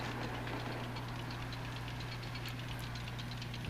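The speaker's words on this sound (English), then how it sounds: "I'm going to drive up this hill very slowly, because this tank has a very weak engine." Tank engine of a Panzer II J in World of Tanks Blitz, a weak motor labouring uphill at slow speed: a steady low drone with a constant hum and light ticking knocks, continuous and even throughout.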